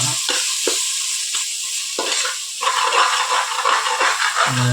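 Garlic-ginger paste frying in oil in a pan for mushroom biryani, a constant sizzle and hiss broken by repeated scraping strokes of a stirring spoon, loud and close with no voices.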